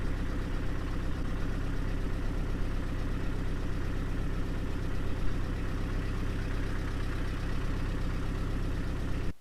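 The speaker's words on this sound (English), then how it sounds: "still first gear, low range, and I am now also driving at 1000 RPM" A 4x4 engine runs at about 1000 RPM in first gear, low range, while the vehicle crawls off-road, giving a steady low rumbling drone that stays constant and close throughout and cuts off at the very end.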